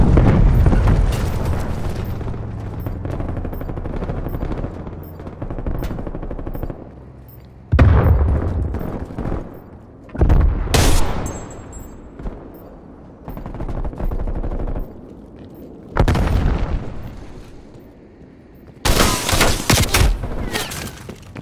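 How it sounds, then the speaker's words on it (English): Hostile artillery fire and explosions in a video game: heavy booming blasts and gunfire bursts that come in separate loud waves, with deep rumbling between them. "Hostile artillery targeting active."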